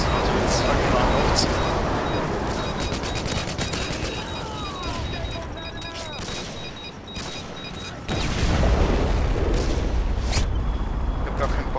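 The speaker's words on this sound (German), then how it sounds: "Verbündeter Luftschlag kommt." Allied airstrike explosions in Call of Duty Modern Warfare 2 on the Scrapyard map, heavy continuous blasts and rattling gunfire with radio voice chatter, ending in a deeper rumbling boom.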